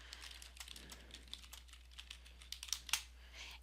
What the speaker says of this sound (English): So I'm going to type in my first question.